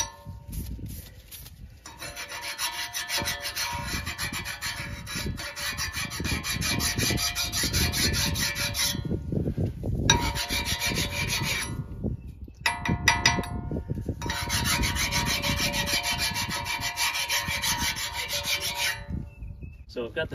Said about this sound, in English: we're catching a little bit of rust here, so I'd like to get rid of that before the new rotor goes on there